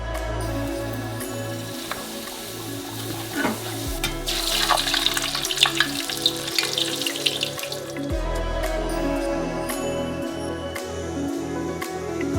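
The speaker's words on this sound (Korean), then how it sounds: "튀겨줘요." Chip dough frying in hot oil, a steady bubbling sizzle with stirring and watery sloshing, louder and busier midway, no talk.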